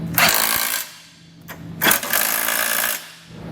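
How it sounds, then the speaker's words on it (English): A power tool with an 11/16 socket snugs down flange nuts on a trailer hitch for a 2017 Honda, two loud buzzing runs of rapid rattling separated by a short pause, close by. "come back with an 11/16 size socket and snug everything down."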